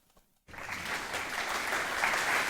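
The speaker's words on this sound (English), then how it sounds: "Can everyone clap for 2 seconds?" An audience claps together on cue for about two seconds, a dense burst of applause that starts abruptly after a brief quiet moment and holds steady and fairly loud.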